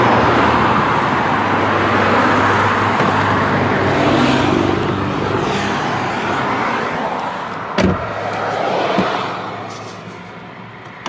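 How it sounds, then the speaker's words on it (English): Steady road traffic roars nearby, a continuous wash of passing cars with a couple of sharp thumps near the end. "There's just too much road noise"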